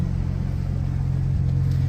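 A Ford Bronco under restoration idles with a steady, low rumble, even and continuous, heard close with no voices.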